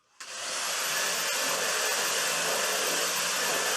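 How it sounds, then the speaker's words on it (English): A Dyson vacuum cleaner and a hairdryer switch on together and run at once, ramping up within half a second into a loud, steady, broadband roaring whine that continues unbroken without any talk. "this time with a Dyson and a hairdryer. So go ahead and turn them on."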